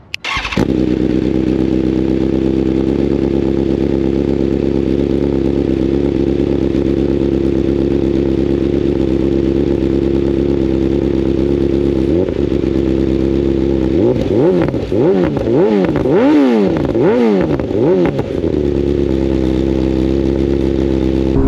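A BMW M1000R sport motorcycle engine idles steadily and loudly nearby, then revs several times in quick rising and falling bursts before settling back to idle.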